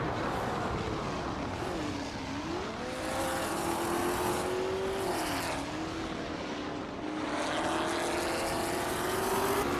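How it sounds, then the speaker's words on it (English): A 1966 Porsche 906 race car engine in a racing video game drones steadily at high revs, its pitch dipping and climbing with gear changes and corners, with no talking over it. "Tuner is driving a Porsche 906 from 1966, currently in 8th place."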